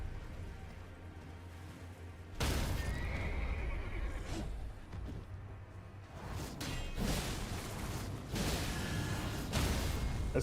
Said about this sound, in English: That still scares me every time I hear that, like me getting kicked off my horse.